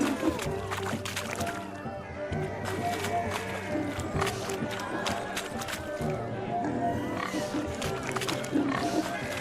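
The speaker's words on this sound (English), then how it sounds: "Are the pigs penned?" Pigs oinking in The Witcher 3 game, a pen of grunting pigs over a dense, steady bed of game ambience and crowd murmur, with repeated snorts and squeals throughout.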